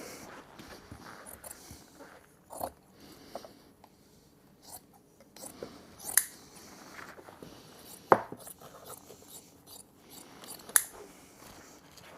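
Scissors trim upholstery fabric on an Ercol wing chair being reupholstered, with repeated close crisp snips and rustling fabric handling, spaced irregularly with a few louder cuts.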